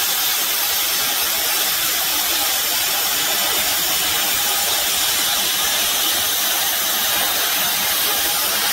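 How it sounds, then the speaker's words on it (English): A small Cut 50 plasma cutter cuts a hole in metal, producing a loud, continuous hissing rush that holds steady throughout with no talking. "use my little cut 50 plasma cutter, and cut a hole in there."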